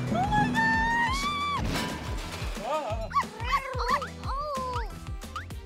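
A poodle in a toy doll story gives a string of high yips and whimpering barks, loud and close, over light background music, with voices heard around them.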